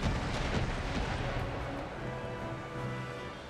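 Cannon and musket volleys in Empire: Total War, a dense, continuous wash of battlefield gunfire with repeated booms and crackling shots rolling on at steady loudness.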